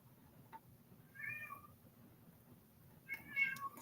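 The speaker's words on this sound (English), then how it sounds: "Oh, my cat." A domestic cat lets out two soft, drawn-out meows about two seconds apart, the second one longer and slightly louder, heard from nearby in a quiet room.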